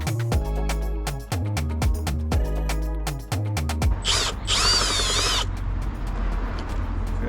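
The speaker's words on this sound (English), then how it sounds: "I'm gonna make a hole so my USB cable can go through it" A drill bores a hole through car trim for a USB cable during a dash cam installation, with a sharp ratcheting mechanical sound in repeated bursts followed by a short high-pitched grinding whir, close and loud.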